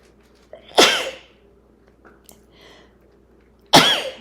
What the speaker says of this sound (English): Going to start sneezing now.